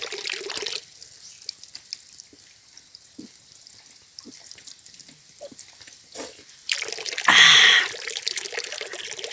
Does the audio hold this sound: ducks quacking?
no